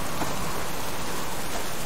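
Rain from the survival game Subsistence: a steady, dense hiss of rainfall that continues unbroken without any talk.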